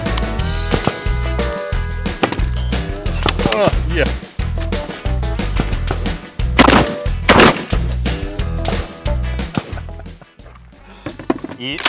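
Rapid gunfire from an AR-15 rifle and a shotgun at a practical shooting drill, with dense, loud, close shots in quick strings, some heavy booming blasts among them, continuing across the whole stretch with brief pauses.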